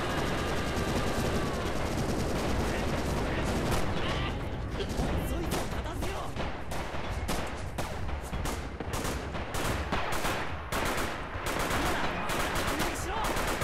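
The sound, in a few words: artillery and machine gun fire in Red Orchestra 2 video game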